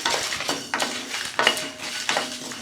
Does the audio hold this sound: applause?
no